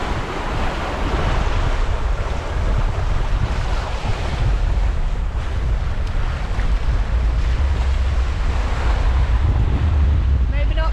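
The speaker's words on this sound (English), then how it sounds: "25-26 knots of wind." Strong wind of 25 to 26 knots roars across the microphone of a sailboat heading from Millport to Campbeltown, with waves and surf rushing steadily around the hull in a continuous loud wash.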